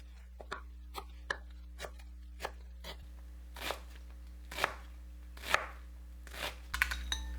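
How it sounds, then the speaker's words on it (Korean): Knife chopping half an onion finely on a board: a steady run of crisp, separate taps, sharper clusters of cutting toward the end, close and fairly quiet with no talking. "홍합을 볶을 때 사용할 양파 반 개는 다져서 준비해요"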